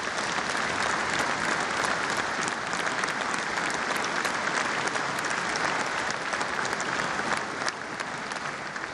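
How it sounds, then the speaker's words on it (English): Legislators and guests applaud during the 2018 West Virginia State of the State address, a broad, sustained roar of clapping in a large chamber that runs about nine seconds and drops off near the end. "So please give them a round of applause,"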